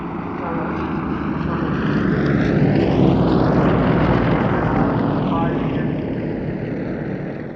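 Aerostars aerobatic display planes roar overhead at an airshow, the engine drone building loudly to a peak mid-pass with a falling Doppler sweep, then easing off as they move away.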